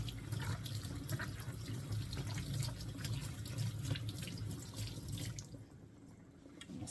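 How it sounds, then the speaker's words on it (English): Tap water runs steadily into a sink as peppers are rinsed under it, a continuous close splashing hiss with small fluctuations, easing slightly near the end. "I'm going to rinse off the peppers really well."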